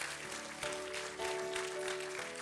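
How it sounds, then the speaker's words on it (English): Audience applause greets grade 5 scholars coming on stage at a school scholar badge ceremony: a steady, even wash of clapping that runs the whole time, with faint tonal music underneath. "welcome the scholars with a huge round of applause"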